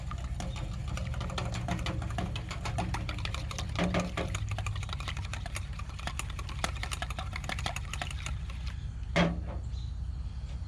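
Melted butter gets whisked into batter in a small bowl as part of apple fritter prep, giving a steady, fast scraping rattle of a whisk against the bowl with a couple of louder knocks.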